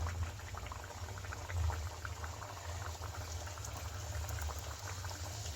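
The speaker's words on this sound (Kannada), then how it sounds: "ಈ ಟೈಮಲ್ಲಿ ನಾವು ಮಾಡಿ ಇಟ್ಕೊಂಡಿರ್ತೀವಲ್ಲ ಒಂದೊಂದೇ ಎಣ್ಣೆಯಲ್ಲಿ ಬಿಡಬೇಕಾಗತ್ತೆ" Potato-and-pea aloo kachori sizzle steadily in hot frying oil, a dense, continuous bubbling hiss close by that holds an even level throughout with no talking.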